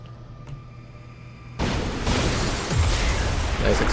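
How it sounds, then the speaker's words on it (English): A video game explosion erupts suddenly after a quiet hum. It becomes a loud, sustained rumbling blast with crackling debris that lingers for several seconds. "Nice explosion."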